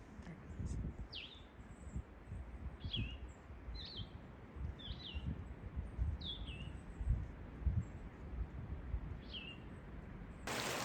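A bird calls along the Appalachian Trail, a series of short, faint, evenly spaced chirps repeating every second or so over a low rustle of wind and leaves outdoors.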